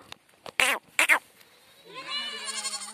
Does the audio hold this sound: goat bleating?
yes